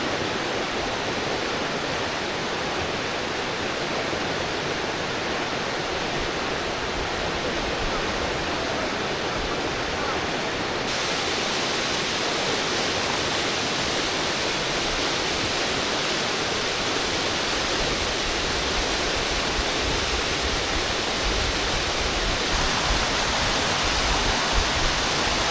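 Steady, loud rush of water from a waterfall fills the whole stretch as a continuous broadband roar with no pauses and no voices.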